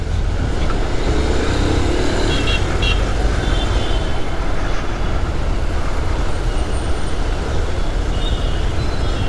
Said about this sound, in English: the traffic is stopped because of this broken down car.